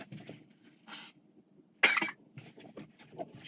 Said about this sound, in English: I need to blow my nose also.